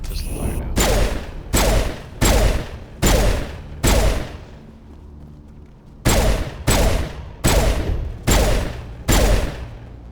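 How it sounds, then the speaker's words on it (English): Pistol shots in Mass Effect ring out in a steady, evenly spaced series of loud, sharp reports, five in a row, a short pause, then five more, each with a brief decaying tail. "how's my pistol fire now?"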